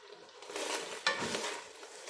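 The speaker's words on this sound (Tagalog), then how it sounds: "magigisa na tayo" Ingredients sautéing in a pan for a highland lamb stew, a faint soft sizzle with a light stir and a single small clink of utensil on metal, quiet and close.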